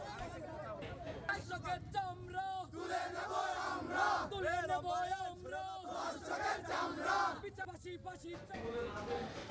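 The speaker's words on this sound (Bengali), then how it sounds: "অভিযুক্ত হিটু শেখের কঠোর শাস্তির দাবিতে থানার সামনে বিক্ষোভ করেন এলাকাবাসী" Local residents protesting loudly in front of a police station, a dense crowd of raised, shouting voices chanting and yelling over one another at close range for the whole stretch.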